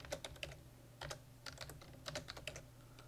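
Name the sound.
typing on a computer keyboard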